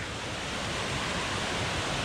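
A glacier-fed waterfall in Himachal on the Hampta Pass trek, heard as a steady, loud broadband rush of falling water that holds even and unbroken throughout with no voices.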